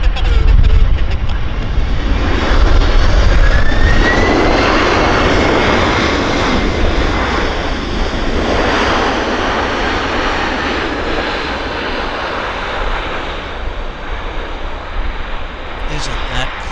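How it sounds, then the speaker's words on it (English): A Japan Airlines Boeing 767-300 jet at Vancouver Airport gives a loud, steady engine roar that slowly fades across the whole stretch, with faint talk beneath it. "Japan Airlines 767-300."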